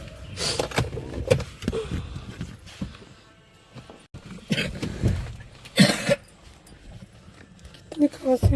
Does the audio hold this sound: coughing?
yes